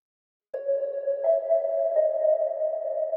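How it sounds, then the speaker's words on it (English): Synth pop sound shaped by a filter envelope in the Vital synthesizer for a lofi beat: a sudden onset after brief silence, then a sustained, steady tone with a slight shift in pitch partway through. "I tracked the envelope to the filter 1 that gave me this pop sound."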